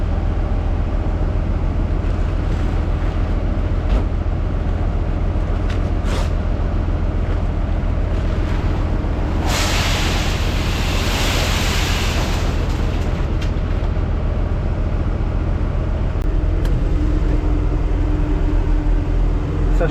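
A farm tractor engine idling in a field during faba bean sowing, a steady low rumble close by, with a brief burst of hissing noise in the middle and no talk.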